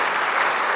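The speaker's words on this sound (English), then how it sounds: "let's do a round of applause, especially because you initiated it" A conference audience claps in a steady, dense burst of applause, close and fairly loud, at a plenary on climate and health.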